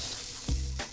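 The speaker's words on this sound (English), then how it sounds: "We wanna let it sizzle." Vegan BBQ mushrooms sizzle and crackle in a hot pan, a steady close frying hiss with a brief louder burst of spatter midway.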